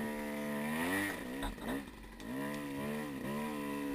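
Motorcycle engine during a race, loud and close, with a steady high pitch that dips and recovers as the revs fall and rise over a few seconds.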